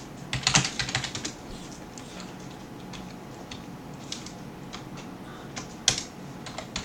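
Linux commands are typed on a computer keyboard, a quick run of close clicking keystrokes with a louder burst at the start and another near the end.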